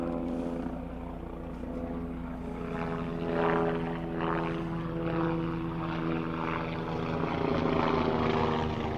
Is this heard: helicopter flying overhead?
yes